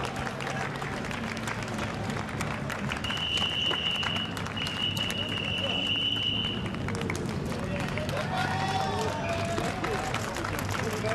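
Crew applauding the Reiter Engineering team at an FIA GT race at Zolder, Belgium, steady clapping and crowd noise blended with race circuit ambience and a commentator talking throughout.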